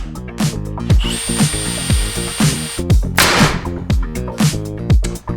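A power drill whirs in short repeated bursts, revving up and down as it drives fasteners without pre-drilling into wood siding on a small cabin, loud and close.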